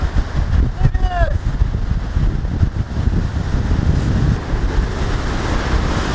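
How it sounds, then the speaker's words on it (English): Waterfall at a Yellowstone National Park overlook in winter, a loud steady broadband roar that fills the scene, with a person's voice briefly heard over it near the start. "There's the waterfall"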